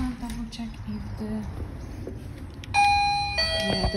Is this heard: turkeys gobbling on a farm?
no